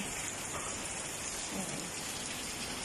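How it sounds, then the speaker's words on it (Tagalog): Heavy rain and wind from Typhoon Carina pour down steadily in a dense, hissing roar that stays loud throughout, with a gusty rush mixed in. "Yung hangin at saka ulan"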